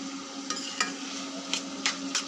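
Potatoes sautéed with garlic cloves and dried fish in a pan: a soft continuous sizzle broken by about five sharp scraping stirs, close and clear.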